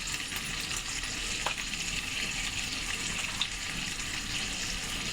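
A spice mixture for butter chicken (ginger-garlic paste, coriander powder and Kashmiri chilli powder) fries steadily in a pan, with a continuous close hiss and crackle and a couple of faint clinks, and no voices.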